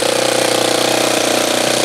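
Saito twin-cylinder model engine running with the throttle advanced, a loud steady buzzing drone with a fast even firing rhythm, close by and alone throughout.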